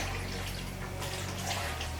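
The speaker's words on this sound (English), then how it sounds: "Put a little water." Water pours steadily into a pot in a broad, noisy splash, close by and continuous for a couple of seconds.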